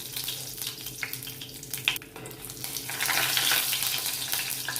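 Whole spices sizzling in hot oil in a pan for rajma: bay leaf, two chillies, a piece of cinnamon and three cloves, a steady crackling fry that grows louder and brighter midway, with no talking.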